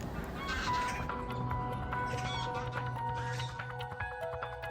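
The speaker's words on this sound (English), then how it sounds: "A skein of geese in clumsy chorus announcing arrival on the homeward" A flock of geese honks in a dense, overlapping chorus, many calls layered over a steady outdoor rumble.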